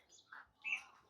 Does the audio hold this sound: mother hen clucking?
no